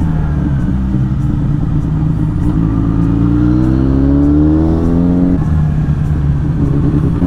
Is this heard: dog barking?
no